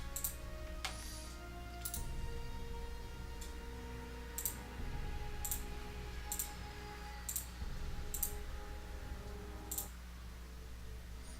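Mouse clicks come at irregular intervals while playing the strategy game Galactic Civilizations 2, faint crisp ticks over low background hum with no speech.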